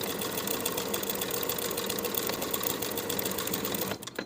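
A sewing machine runs steadily along a pinned edge, edge-stitching close to the fold of a pants pocket piece, with a continuous close humming whir that cuts off near the end.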